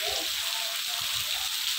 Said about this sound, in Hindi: देखिए बारिश तेज होती जा रही है